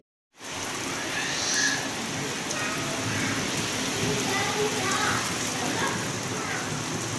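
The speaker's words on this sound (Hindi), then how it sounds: "बारिश हो रही है, बारिश में जाओगी?" Steady rain falling, a dense continuous hiss that starts abruptly and holds at an even level, with occasional louder drops and patters close by.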